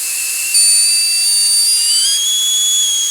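Pressurized air hisses in a steady, loud, high-pitched stream from an O-ring leak on a power steering reservoir fed by a regulated pressure bleeder, with whistling tones that shift pitch slightly, close by and with no voices.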